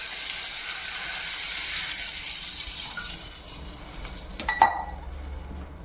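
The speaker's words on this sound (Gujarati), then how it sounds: "હવે આપણે એમાં પાણી ઉમેરી દઈશું।" Water poured into a hot pot of spiced kadhi khichdi base with green chilli, coriander-cumin and turmeric, giving a steady loud rushing sizzle and hiss for about four seconds that then fades, with a brief splash near the end.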